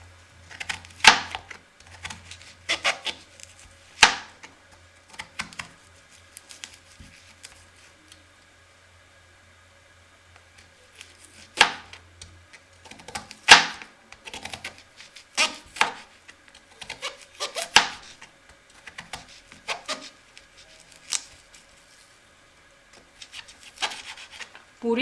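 A knife chopping turmeric root into fine pieces on a board, with irregular bursts of sharp cuts separated by pauses, close and fairly loud, with no talk.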